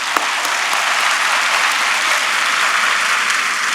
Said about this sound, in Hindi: एक बार हम ताली बजाएंगे जोर से उनके लिए